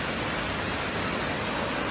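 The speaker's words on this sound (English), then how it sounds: "A spray of water is getting created with the splash of the waterfall." Duduma waterfall crashing down with heavy spray, a steady, dense broadband roar of falling water heard up close, continuous and unchanging throughout.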